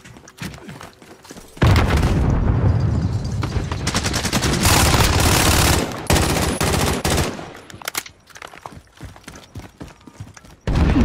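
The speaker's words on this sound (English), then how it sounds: "Bombs are going off." Gunfire and explosions from a Call of Duty Modern Warfare match: sustained automatic bursts and heavy blasts roar loudly for long stretches, broken by quieter gaps and sharp single shots.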